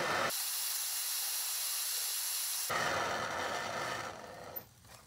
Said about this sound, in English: just kind of let it burn and sizzle for a while